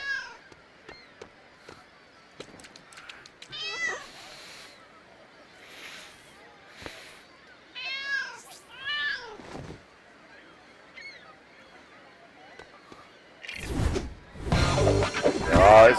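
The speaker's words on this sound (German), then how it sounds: "Ah, hier ist die Katze, okay." A cat in the LEGO City Undercover video game meows in several short, bright calls spread across the stretch, with game sounds and a loud burst of noise near the end.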